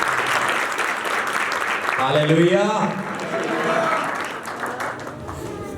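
A church congregation bursts into sustained clapping and cheering during a worship service, dense and steady throughout, while a voice calls out over it.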